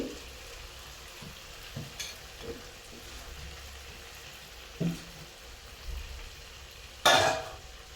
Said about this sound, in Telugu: ఇప్పుడు మనము ఆలు వేసుకోవాలి ఇలా ముక్కలు చేసుకొని వేసేసుకోవాలి